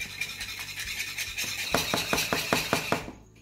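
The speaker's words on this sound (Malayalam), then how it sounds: "ഒരു വിസ്ക് കൊണ്ട് നന്നായിട്ടൊന്ന് മിക്സ് ചെയ്ത് കൊടുക്കാം." A wire whisk beats an egg mixture with chopped coriander in a bowl, quick rhythmic scraping strokes that grow more regular and pronounced partway through, close and alone.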